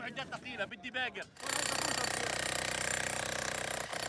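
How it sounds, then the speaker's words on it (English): Drills break up rubble, running hard and steady as a loud, dense mechanical rattle that comes in after a burst of talk and holds almost without a break. "So at best they have these drills, and not much power to run them"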